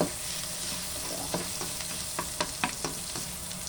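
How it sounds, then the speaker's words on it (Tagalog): Crushed garlic sizzles steadily in a hot pan while cooking mung beans, a constant frying hiss broken by several sharp clicks and scrapes of stirring. "maglagay na tayo ng ating bawang. Dinorog na bawang. Susutay lang natin ito"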